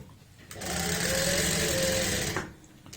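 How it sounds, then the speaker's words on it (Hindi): A sewing machine runs steadily for about two seconds, stitching the lining of a pant along a curved seam. It starts and stops cleanly and is loud and close, with no talk over it. "गोलाई में सिलाई लगाएंगे।"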